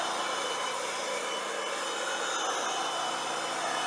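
A Milwaukee M18 compact cordless blower runs steadily, blowing grass clippings off a driveway outdoors, giving a loud continuous airy rush with no pauses.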